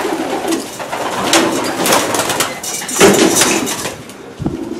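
Sprint racing pigeons coo steadily and close by in a run of soft, throaty calls, with a brief knock near the end.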